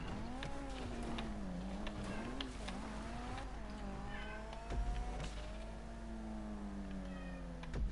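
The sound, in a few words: cat meowing in the house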